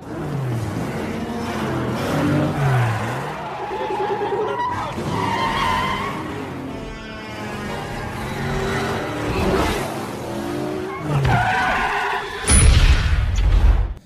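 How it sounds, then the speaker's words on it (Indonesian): Cars in a high-speed chase through Manhattan streets, with roaring engines, screeching tires and a sharp crash near the end, loud and continuous under tense film music. "Pengejaran mobil berkecepatan tinggi terjadi di jalanan Manhattan."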